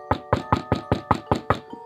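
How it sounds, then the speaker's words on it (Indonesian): Loud knocking on a front door, eight evenly spaced heavy knocks in a steady rhythm, close and sharp with no voices. "Suara pintu depan diketuk dengan kencang."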